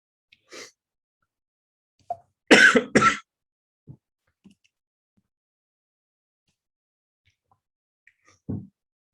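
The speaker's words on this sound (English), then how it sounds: "If you're ever going to get a cough, it's always when you're going to do a webinar" A burst of two harsh, close coughs from one person during a webinar, with a few small breaths and throat noises scattered around otherwise quiet air.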